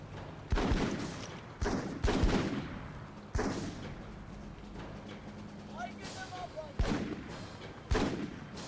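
Gunfire in the Full Spectrum Warrior video game: several sharp, loud shots spaced a second or so apart, each with a booming tail, over a low rumbling battle backdrop and shouted voice commands.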